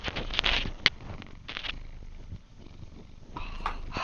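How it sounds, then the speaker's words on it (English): A cat purring close up, a soft continuous rumble with a few louder snorts and rustles breaking through, no talking over it. "You purring, kitty?"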